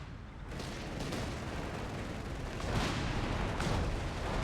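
Stuka barrage explosions rumble in a World War II strategy game, a dense, continuous roar of distant blasts with a few sharper booms rising near the end.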